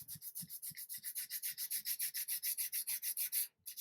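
A figure sculpt is sanded by hand with 180 grit sandpaper in quick, rhythmic back-and-forth rubbing strokes, close and fairly quiet, about six strokes per second, stopping briefly near the end.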